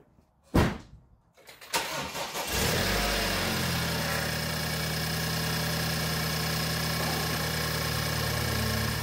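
A BMW F-series car engine cranks with two short bursts, catches and settles into a steady, even idle, heard close and alone with no talk.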